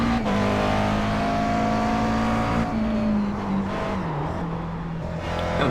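Race car engine in the iRacing sim at Watkins Glen, a loud steady whine that holds high, dips as the pitch drops through a slow uphill turn, then builds again, continuous and close with no talk.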